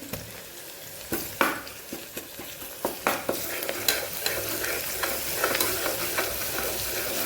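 Onion frying in a pan with ginger-garlic paste for a Kathiawadi vegetable curry, a steady close sizzle broken by repeated sharp scrapes and clacks of a stirring spoon, with no talking.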